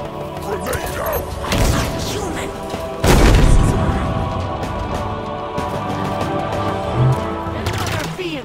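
A loud, close boom from a grenade explosion in the Halo Infinite campaign cuts through ongoing game combat noise and music, followed by scattered gunfire, with a voice talking over parts of it.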